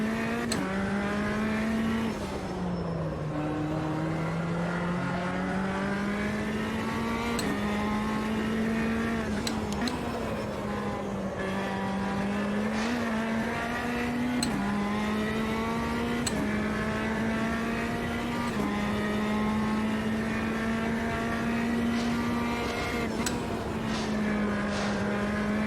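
A race car in the video game Automobilista 2 drones steadily at high revs, its engine pitch rising and falling through gear changes and corners, loud and continuous with no one speaking.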